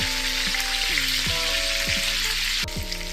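Meat browning in hot oil for goulash soup gives a close, steady sizzle that runs unbroken throughout, with faint tonal sounds in the background.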